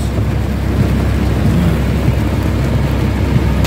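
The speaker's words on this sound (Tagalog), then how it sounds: "Bumuhos yung ulan. Napakalakas." Heavy rain pours down near the mountains of Barangay Dakil, Mauban, Quezon, in a dense, constant roar, loud and unbroken throughout.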